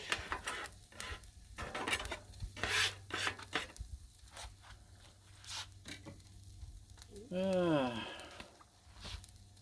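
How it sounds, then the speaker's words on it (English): Metal scraper rasping across a Blackstone griddle, scraping up meat in repeated close strokes over faint sizzling, with someone briefly singing along. "Scrape up some of the meaty meat food product."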